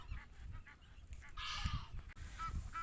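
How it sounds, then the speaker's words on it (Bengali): Ducks call at Dubai Love Lake, giving a few honking quacks over steady outdoor ambience at moderate distance. "এটা হাঁস।"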